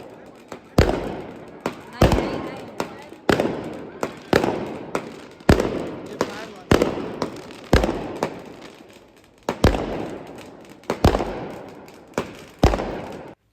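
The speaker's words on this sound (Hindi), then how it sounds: "बहुत देर तक आतिशबाजी जो है वो हो ही रही थी मुसलसल।" Fireworks crackle and bang repeatedly at a wedding welcome, a steady series of sharp, loud bursts roughly every half second to second, each trailing off into crackling echo.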